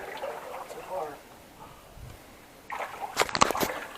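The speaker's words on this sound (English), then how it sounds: "Water just went down my boot." Water splashing and sloshing into a boot while wading through a flooded mine passage, a sudden burst of close, loud splatter after quieter dripping ambience, with people talking nearby.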